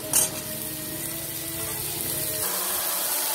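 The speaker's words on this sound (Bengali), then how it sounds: "আমি মশলা দেওয়ার আগে ঝিঙেগুলো দিয়ে একটু সাঁতলে নেব।" Ridge gourd is sautéed in hot oil with fried potatoes, sizzling steadily and close after a brief clatter as the pieces drop in.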